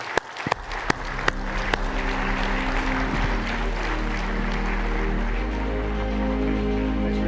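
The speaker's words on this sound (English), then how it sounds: "Please give a very warm applause to welcome Jeff Immelt on the stage." Audience applause at a corporate keynote on stage, welcoming the guest Jeff Immelt: a few sharp claps open into steady, dense clapping across a large hall, with a low music bed sustaining underneath.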